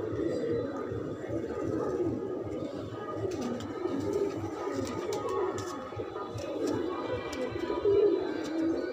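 Several pigeons cooing nearby in low, throaty repeated calls, with faint chirps and background noise.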